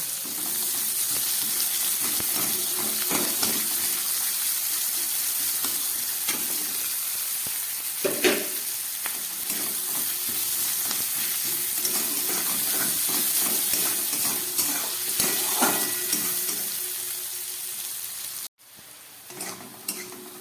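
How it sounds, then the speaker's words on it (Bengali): Garlic and chopped onion fry in a pan with a continuous loud, steamy sizzle, broken by periodic spatula stirs and scrapes, before the sound abruptly drops to a quieter hiss near the end. "রসুন আর পেঁয়াজটাকে আমি খুব ভালো করে এবারে ভেজে নেব"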